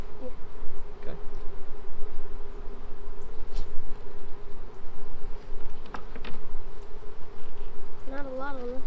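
Honey bees from an opened hive near the end of the brood nest buzz steadily and softly throughout, with brief handling knocks, a few bees circling close near the end, and people speaking faintly.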